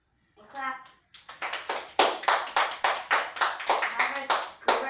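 Kindergarten children clap together in a lesson setting, a quick run of sharp, close hand claps growing into a steady, rhythmic burst, with brief child-like vocal sounds at the start.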